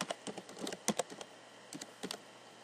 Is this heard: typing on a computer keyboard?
yes